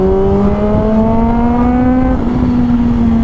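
A motorcycle engine revs with a loud, steady, continuous note that climbs gradually in pitch as the throttle is twisted, with no talk over it.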